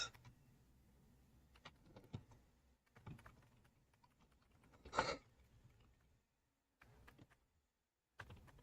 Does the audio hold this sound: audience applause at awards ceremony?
no